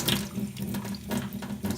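Tap water running over a hot, damaged USB drive under a sink faucet, a close, steady splashing gush with small fluctuations as the stream hits the object, no talk.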